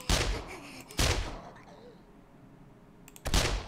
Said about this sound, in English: Obviously me using guns is not a good idea because it's so loud